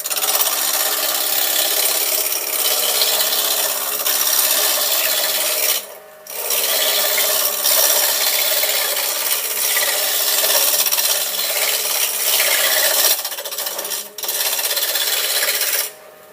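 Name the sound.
wood lathe turning timber down to size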